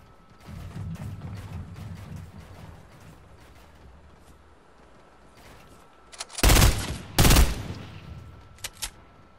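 Gunfire in a video game: two loud, close bursts of rapid shots in quick succession, followed by a couple of fainter pops, after a stretch of quiet low rumble.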